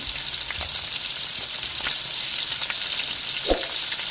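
Prawns fry in hot oil for a crispy prawn fry, a loud, even, continuous sizzle with a few faint clinks and one short knock, no voices.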